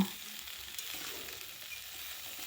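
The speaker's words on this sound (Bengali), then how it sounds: "সবজিগুলো ভালো করে নেড়েচেড়ে একটু ভেজে ভেজে নেব" Vegetables for Malabar spinach curry sizzle and crackle in a hot pan of fish oil, a soft, steady frying hiss with no talking.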